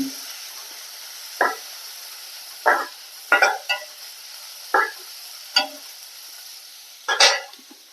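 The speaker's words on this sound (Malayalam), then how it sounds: "ഇഞ്ചി ഇതൊന്ന് നന്നായി വഴണ്ടി ഇഞ്ചി വെളുത്തുള്ളി" Ginger and garlic sautéed in a pan for an egg stir-fry, heard as a few sharp spoon-scraping stirs over a low, steady sizzle, with bursts spaced a second or so apart and no talking.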